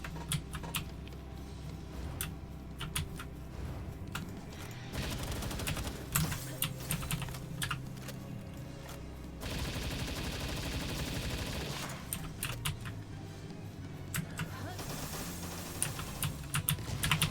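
Gunfire in the Palworld game, dense crackling bursts and sustained volleys in a busy fight, fairly quiet and cluttered with other game sounds.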